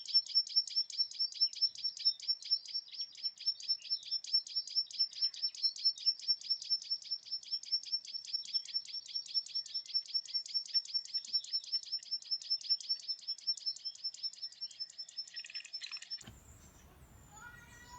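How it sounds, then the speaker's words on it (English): A meadow pipit sings a long run of thin, high repeated notes in rapid steady rhythm, clear and fairly close, before the song stops and a brief rustling noise follows. "Meadow pipit song is also given in flight"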